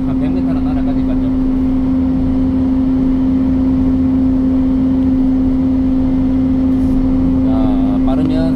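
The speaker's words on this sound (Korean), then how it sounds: "방제기는 한 100m로 날아가니까요." An agricultural pest-control sprayer blows over a rice paddy. Its engine and blower give a loud, steady, droning hum, close by, while someone talks over it.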